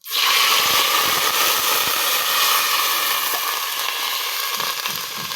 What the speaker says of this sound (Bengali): এবার হাঁড়ির ভিতর জল দিয়ে দেবো।